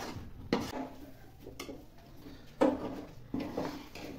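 Chana dal halva being stirred and roasted in a pan: a spoon scrapes and knocks against the pan in a few separate, fairly quiet strokes with pauses between them, and no talking.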